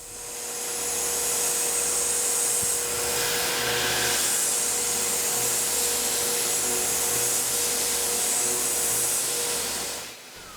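A CNC machine mills a 2D contour with a 1/4-inch 3-flute cutter, giving a steady, loud broadband whine that holds for about ten seconds and drops away at the very end.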